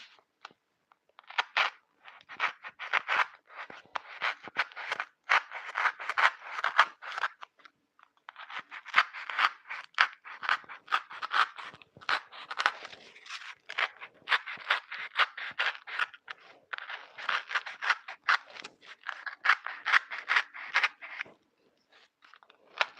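A pen knife carves a hole into a gingerbread house, giving dense, rapid crunching and scraping bursts that continue in close, steady runs with a short pause partway through, with no talking.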